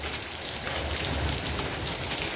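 A sudden hailstorm pelts down on plants outdoors, a loud, dense, continuous patter of icy drops striking surfaces, steady throughout with no voices.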